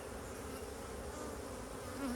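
Aggressive honey bees buzzing at a cow pasture apiary, a steady droning hum of many insects, faint and continuous with no talk.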